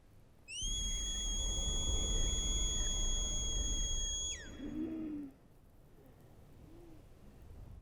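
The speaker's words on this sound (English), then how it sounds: "that whistle is top tier" A piercing whistle from the Superman (2025) preview rises sharply, holds a steady high note for about four seconds, then slides down and cuts off, leaving quiet background rumble.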